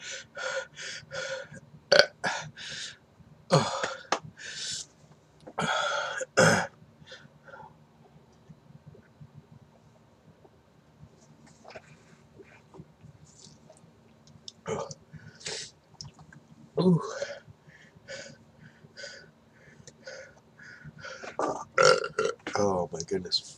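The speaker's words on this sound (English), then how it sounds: "Excuse me for my horrible pepper burps." Repeated loud burps after eating hot peppers come in irregular bursts, mixed with gasps and heavy breathing, with a person talking between them.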